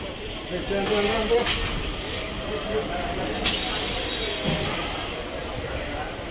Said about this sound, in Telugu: ట్రైన్ అయితే భీమవరం బయలుదేరిపోతుంది